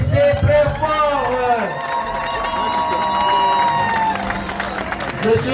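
Wedding guests at an official civil ceremony in Congo-Brazzaville clapping and cheering, a loud crowd of hands and voices with a sustained whoop over the applause, steady throughout.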